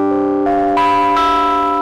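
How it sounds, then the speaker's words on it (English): Piano chords driven through the Softube Saturation Knob plugin, three successive struck chords with a thick, warm, gritty harmonic edge, dense and fairly loud, each sustaining into the next. "we can add that saturation"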